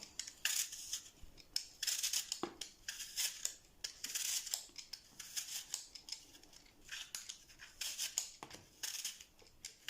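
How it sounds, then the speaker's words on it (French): Apples being peeled and sliced for an apple tart, a run of quick close scraping and slicing strokes in irregular bursts, no voices. "je vais éplucher les pommes et les couper en tranches"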